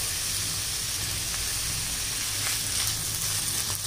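Onions and tomatoes sauté in oil for a village-style fish curry, a low, even hiss of frying that holds steady throughout, faint and with no voices.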